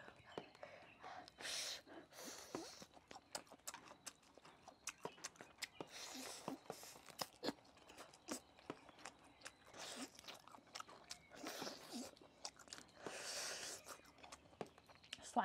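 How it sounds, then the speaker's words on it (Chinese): Someone bites and chews crispy fried garlic spare ribs close to the microphone, with quiet irregular crunches, smacking bites and breathy sounds spread across the stretch. "尝下我的排骨"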